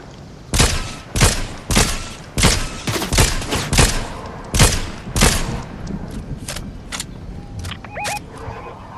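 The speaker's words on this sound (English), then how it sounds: "Someone else shooting me. Fucking rocket launcher, baby." Rapid gunfire bursts and rocket launcher blasts in Fortnite, a loud, evenly spaced series of sharp shots over several seconds, thinning out toward the end with a few lighter clicks.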